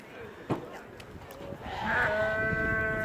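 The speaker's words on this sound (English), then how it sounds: "I just wanted you guys to be able to hear these sheep." Sheep bleating on a farm, a mix of low, cow-like voices and higher calls, with one sharp nearby sound early and a long sustained bleat rising to close range at the end.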